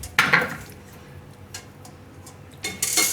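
Taro roots tumble into a metal pressure cooker in a few separate bursts, with sharp clunks and rattles against the pot and quieter knocks in between.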